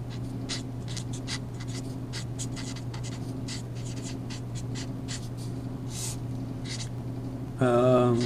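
Chalk or pen scratching steadily while a math derivation is written out by hand, quick repeated strokes with short pauses over a constant low hum, ending in a brief louder noise.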